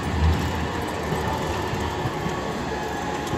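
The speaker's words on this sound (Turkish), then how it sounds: "Bakın arkamdan tramvay geliyor." A tram rolls along street rails in a steady, broad rumble with a faint metallic hiss, close and continuous for the whole short stretch, with no talk over it.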